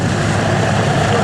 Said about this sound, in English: Up and up he goes in a big victory roll.